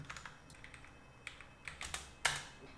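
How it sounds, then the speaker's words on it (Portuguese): Computer keyboard keys clicked in a short series of light, close taps, ending with one sharper, louder keystroke like the enter key, in a quiet room. "E agora sim, eu posso dar um enter."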